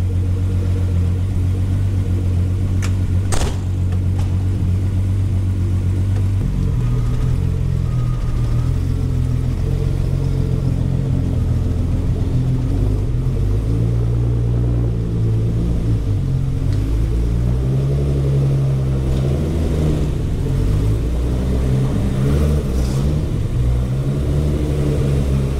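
A turbocharged VR6 engine in a Golf 2 runs on a dynamometer in fifth gear, a loud, close rumbling drone that rises and falls in pitch as the revs climb and settle.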